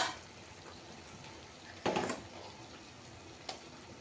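Pointed gourd (potol) pieces are dropped into hot frying masala, giving a sudden close sizzling burst that fades, then a smaller sizzle flare over a low steady frying hiss.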